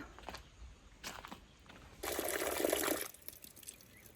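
Water splashes and pours for about a second as clothes are put to soak, amid quiet handling noises, with a few soft knocks before and after.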